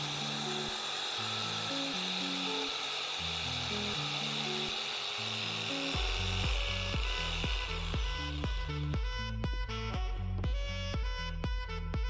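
A power tool cuts out a Stitch-shaped DIY obstacle with a continuous high whine. It is joined midway by a rhythmic, pulsing cutting rattle that grows denser and louder toward the end.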